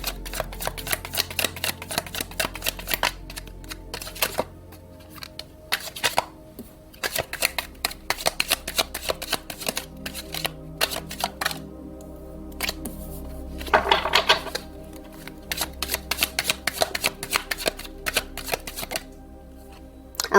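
Tarot cards shuffled by hand in a French reading, giving repeated crisp riffling and flapping bursts at close range, with a low hum underneath and no talking.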